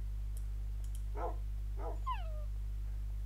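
Dogs in the Minecraft game DingusCraft UHC give two short barks close together, then a rising whimper-like yip, all faint over a steady low hum with no talking.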